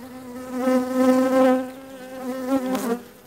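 Honey bees at a weak hive, opened up and with frames being lifted, drone in a steady, close buzz that swells and fades over a few seconds, alone without talk.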